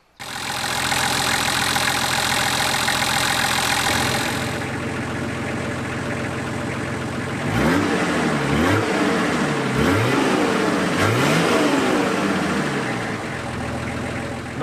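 A Nissan Patrol Y60 with a 2.8 diesel engine of about 115 hp idles close by, then revs in several sharp bursts that rise and fall before it settles back to idle.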